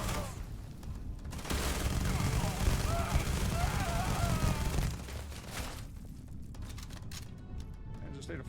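Automatic gunfire in a video game, dense bursts of shots under a chattering voice, loudest in the middle stretch before thinning out near the end.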